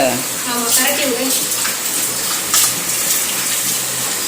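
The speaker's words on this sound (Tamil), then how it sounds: "நான் தான் அந்த சிக்கனை கழுவுறது" Tap water gushes steadily while raw chicken is washed under it, a close, continuous splashing rush with a voice speaking briefly over it at the start.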